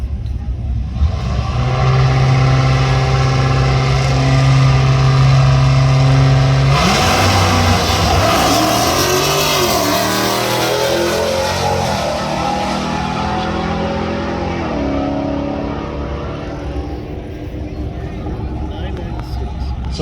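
Heavyweight street car racing at US131 Motorsports Park, a loud engine droning and revving with shifting pitch as the car launches and pulls away, while an announcer talks over it.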